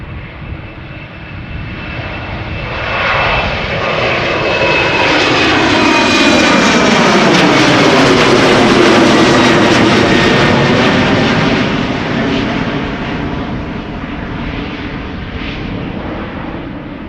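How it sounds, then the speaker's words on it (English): A 14-year-old airliner on the flight to Edinburgh passes at Schiphol Airport, its jet roar swelling from a distance to a loud, sweeping peak mid-pass with a sliding pitch shift, then fading away, no voices. "here she comes, the 9 to 5 flight to Edinburgh. This airplane is 14 years old"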